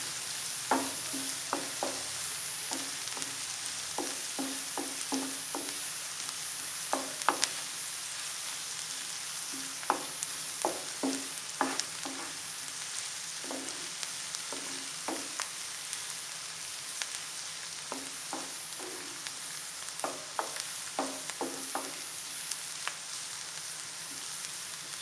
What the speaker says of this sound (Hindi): प्याज को थोड़ा सा नरम होने देंगे।